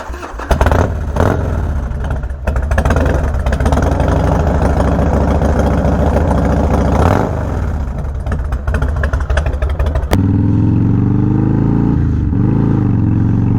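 A cold Harley-Davidson FXDX motorcycle engine runs loud and close on a ride, with a deep continuous rumble that shifts pitch as it revs, then settles into a lower steady drone near the end.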